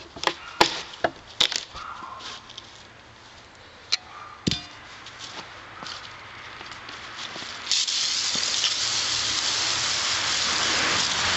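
A sawn wood burl blank is split open, giving several sharp cracking and knocking hits close by, followed by a steady, louder hissing rush of noise toward the end, with no talking.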